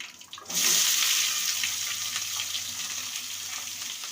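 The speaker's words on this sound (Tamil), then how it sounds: "வெங்காயம் போட்டு நல்லா வதக்கணும்." Onions and curry leaves hit hot oil after a brief quiet start, then a loud bright frying hiss that settles into a steady sizzle throughout.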